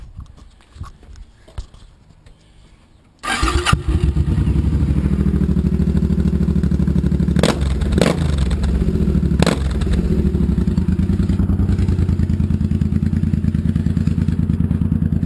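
Suzuki C800 motorcycle fitted with a Vance & Hines cruiser exhaust starts up after quiet handling noise, then settles into a loud, continuous, throbbing idle with a few sharp blips, close to the microphone.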